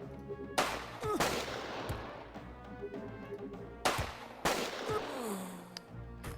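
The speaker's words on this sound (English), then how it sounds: "Melton can continue firing at him." Gunfire in Jagged Alliance 2 1.13, with two sharp bursts of shots and crashing impacts, each trailing into a rumbling decay, moderately loud against a quiet background.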